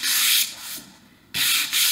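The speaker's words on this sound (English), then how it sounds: "you could fix it just by sanding" Hand sanding on a painted wooden sign makes loud, close, rasping strokes in two bursts, with a brief quiet gap between them and no one talking.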